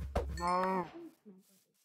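Cow in the video game Minecraft lets out a single drawn-out, tonal moo at close range, followed by a few faint, softer sounds and then near silence.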